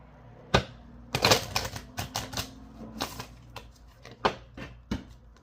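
Tarot cards shuffled by hand during a reading, giving a string of sharp, dry papery clicks and riffles that arrive in irregular bursts, close to the microphone and with no talking.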